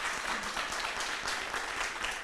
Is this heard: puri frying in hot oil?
no